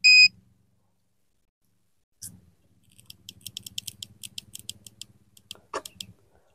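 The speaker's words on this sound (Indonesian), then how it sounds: "alarm ini fungsinya untuk nanti ketika baterai pesawatnya habis dia akan bunyi" A short high beep, a pause, then a rapid series of sharp electronic chirps over a low buzzing hum, a low-voltage alarm on an RC plane battery sounding.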